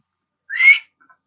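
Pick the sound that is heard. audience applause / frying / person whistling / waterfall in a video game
person whistling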